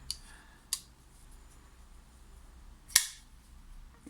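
Three sharp metallic clicks snap out over near-silence, the last one loudest, each short and crisp: a folding knife blade snapping open.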